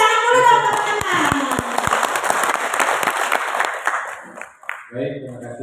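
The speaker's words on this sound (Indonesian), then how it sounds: "Beri tepuk tangan dulu dong teman-teman" Applause from an audience at a formal gathering in Makassar, a burst of clapping that swells and then thins out, with a voice speaking over it and talk resuming at the end.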